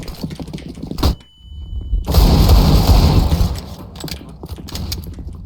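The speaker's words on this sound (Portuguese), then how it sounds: "Flashbang." A flashbang grenade goes off in the Counter-Strike map Vertigo, a sharp burst followed by a steady ringing tone, then a loud roaring wash over about a second, with clicking gunfire and game noise around it.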